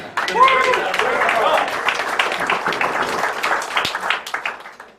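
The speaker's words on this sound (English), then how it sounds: "Why don't you give them a proper round of applause?" An audience claps at an AR/VR garage opening in Auckland: dense, fairly loud applause carrying through the whole stretch, with voices and some cheering mixed in early on, tapering slightly toward the end.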